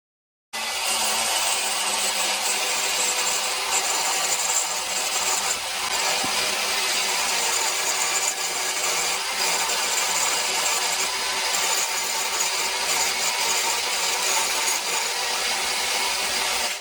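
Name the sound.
angle grinder carving a wooden twisted staff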